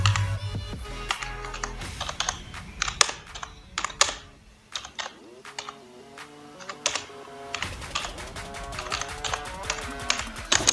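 Typing on a computer keyboard while entering text in an MS Excel bill of quantities sheet: rapid, irregular close key clicks in bursts, with a brief pause midway.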